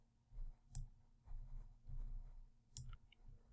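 Computer mouse clicks in ProRealTime trading software, two short, sharp, faint clicks over soft low background thumps.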